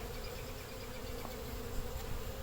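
Honey bees swarm around an open hive, a dense, steady, close buzzing drone that holds evenly throughout with no voices.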